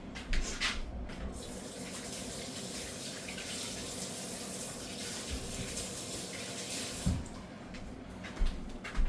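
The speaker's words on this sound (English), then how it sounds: "and I'm just gonna wash my hands again." Running tap water pours steadily into a kitchen sink as hands are washed during pernil (roast pork) preparation, a continuous close splashing hiss with a few louder splashes near the end.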